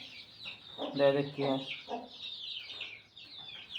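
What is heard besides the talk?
chickens clucking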